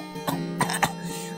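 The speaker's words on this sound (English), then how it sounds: "I laughed and choked and coughed at the same time." A person laughs, chokes and coughs at once: three quick, strained bursts close to the microphone, then a short pause.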